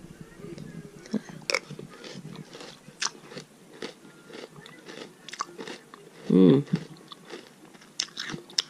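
Crunchy, sweet chocolate meal-replacement breakfast cereal with milk is chewed close to the mic, with soft irregular crunches and bites and one louder burst, quiet and intermittent.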